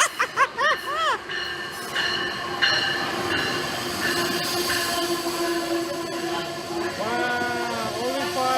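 A passenger train sits at a platform in Iselin with squealing wheels and brakes, a steady electric hum, and clanks from the cars, fairly loud and close.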